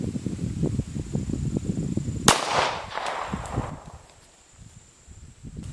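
A single sharp .50 BMG rifle shot strikes a block of hickory wood outdoors, a sudden loud crack followed by a brief decaying rumble against a steady background of low ambient noise.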